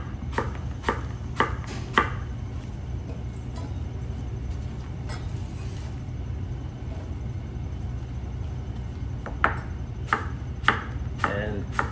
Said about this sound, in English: Sharp knife, because you don't want to have any problems while you're slicing the apple